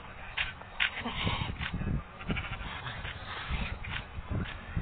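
Several goats bleat close by, overlapping wavering calls repeating over a busy farmyard background.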